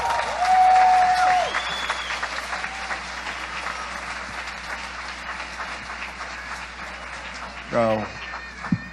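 A Baptist congregation applauds during a Sunday morning service, with continuous clapping beneath louder vocal tones, as a voice rings out near the start and another breaks in near the end.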